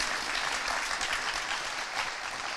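Audience at a Gwinnett County Jimmy Carter Day ceremony applauding the Carter family, dense sustained clapping from a crowd throughout.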